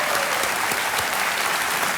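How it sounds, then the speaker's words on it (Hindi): Studio audience applause for comedian Kapil Sharma on the KBC quiz show set, a dense, steady wash of clapping that holds at an even, loud level from start to finish. "एक बार तालियां बज जाए कपिल शर्मा जी के लिए"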